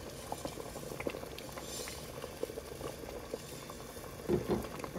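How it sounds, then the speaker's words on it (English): A pot of water at a rolling boil bubbles and patters steadily as spaghetti goes in, a soft continuous simmer with a brief heavier splash near the end, no voices. "we're gonna place it in boiling water"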